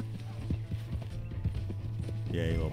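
Horse hooves clip-clop in Red Dead Redemption 2, a regular, fairly close rhythm of hoof beats with a horse's whinny near the end, under and between lines of talk.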